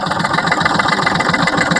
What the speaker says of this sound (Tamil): மாமா வண்டியை ஸ்டார்ட் பண்ணுங்க மாமா